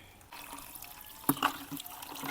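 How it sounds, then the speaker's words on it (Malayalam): Water is poured steadily into a kitchen-waste fertilizer mix, a soft continuous trickle and splash that starts abruptly and runs close by, with a few brighter splashy bursts and no talking. "ഈ കപ്പിന് പത്ത് കപ്പ് വെള്ളം ഏകദേശം പത്ത് കപ്പ് ഒഴിക്കുക"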